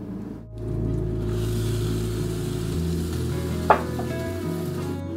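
Spinach, arugula and garden green onions fry in a pan with a steady close sizzle, a single clink of a utensil partway through over a low background hum.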